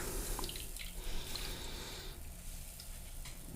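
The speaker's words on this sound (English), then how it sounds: "just bear with it and continue squeezing it to get all the liquid out" Liquid runs and drips as a kebab meat mixture is squeezed by hand, a continuous wet trickling and splashing like a running tap, close and alone.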